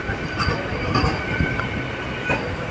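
Narasapur–Guntur passenger train standing at Krishna Canal Junction, a steady rumble of the carriages with faint metallic squeals and soft clanks running throughout, fairly loud and continuous with no talk.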